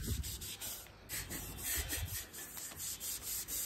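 A floor being scrubbed and mopped in haste at home, with close, uneven rubbing swipes repeating at a brisk pace and a few soft knocks underneath.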